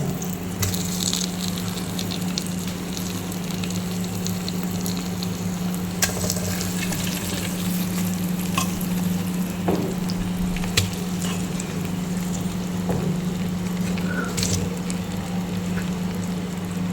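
Pieces of fish sizzling in masala paste inside a clay pot, a steady close frying hiss running throughout with occasional soft clicks and scrapes as each piece is laid in, no voices.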